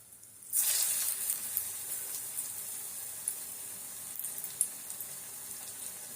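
Small wheat flour bonda frying in hot oil, a sudden loud hiss as the batter drops in, then a steady close sizzle with scattered pops and crackles.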